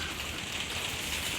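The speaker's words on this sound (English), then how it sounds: "You should be able to hear the rain a lot easier on the roof of a conservatory" Rain drums on a conservatory roof in a dense, steady hiss of countless drops, unbroken and close, with no talking.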